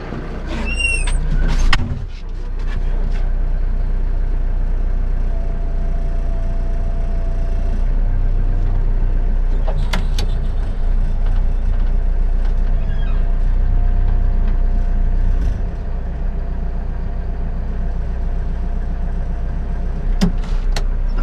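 A telehandler's engine running steadily while it drives, a loud continuous low rumble heard from the cab over about twenty seconds, with occasional clanks and a brief squeal near the start.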